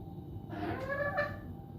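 A chicken clucks close by, likely a silkie or onagadori-type bird, giving a short run of soft clucks and a brief call over quiet background.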